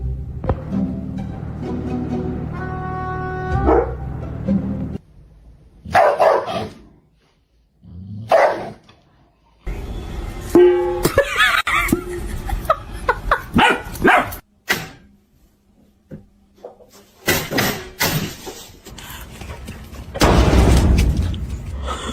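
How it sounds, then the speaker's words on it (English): Pet dogs bark repeatedly, with loud clustered barks, yips and a low growl. The barking is close and broken by short pauses, over ongoing background sound. "We got a couple pups."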